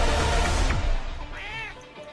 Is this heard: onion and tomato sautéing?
no